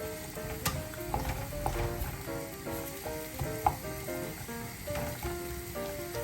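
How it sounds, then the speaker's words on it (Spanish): Chopped onion dropped into hot cooking oil for a pasta pomodoro sauce, giving a continuous close sizzle with light stirring scrapes and occasional taps from the utensil. "ya el aceite de cocina se ha calentado y procedemos a incorporar la cebolla"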